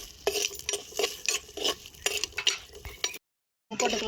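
Garlic, green chilies and onion being sautéed in a pan: soft sizzling under repeated stirring and spatula scrapes in an uneven rhythm, close by, with a brief silent gap near the end.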